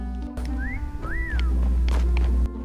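Whistling in a Fortnite Prop Hunt match, two rising-and-falling pitched whistles close by over a low droning game background, with clicks and thumps, no speech.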